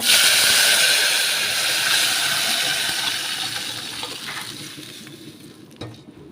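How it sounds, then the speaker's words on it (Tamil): A loud burst of sizzling hiss as mutton rasam is poured into a hot oil tempering, gradually fading and settling down over several seconds. "இப்போ வந்து இந்த ரசத்தை சேர்த்துக்கலாங்க"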